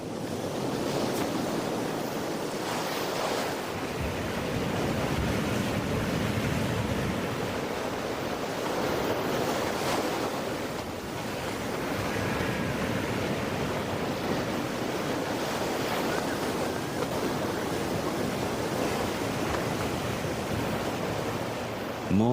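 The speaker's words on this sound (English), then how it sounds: "As the waves and spume crash below" Ocean waves crash and surge below a rocky Kamchatka coastline, a continuous loud roar of surf with swelling breakers and windy hiss, no voices.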